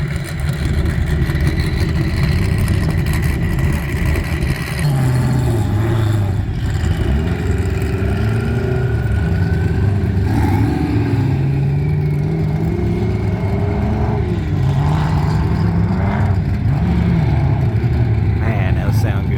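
Dune cars at the Glamis sand dunes rev their engines loudly and continuously, deep rumbling with rising and falling pitch as they accelerate, while people talk over the roar.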